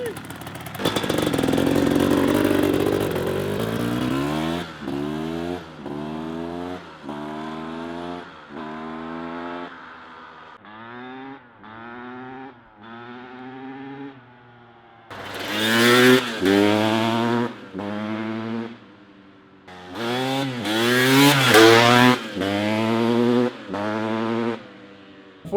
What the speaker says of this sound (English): We're letting it warm up right now.